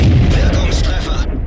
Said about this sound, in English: Tries to take another shot there, but he misses.